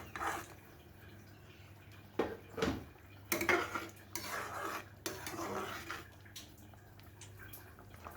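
Hot water trickles into a pan of simmering fish curry with brinjal and is stirred in, giving a few clanking pot-and-spoon knocks and splashy stirring bursts over a low steady hum.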